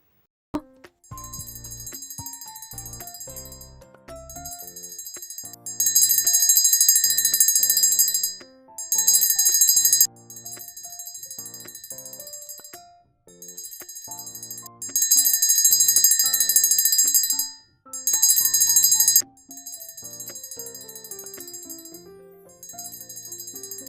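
A bright small bell jingles in loud bursts that come and go over a soft, gentle tinkling melody, shifting between quiet and loud stretches.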